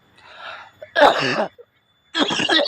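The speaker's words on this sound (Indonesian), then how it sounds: "Batuk." Two or three harsh coughs close up, separated by short pauses, loud and abrupt.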